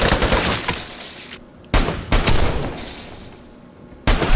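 AKM rifle fire in the online shooter Vigor comes as loud, close bursts of rapid automatic shots, three separate volleys broken by brief pauses, with no speech.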